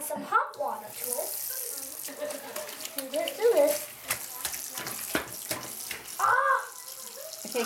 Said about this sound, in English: Put the water in. And you just add some hot water to it.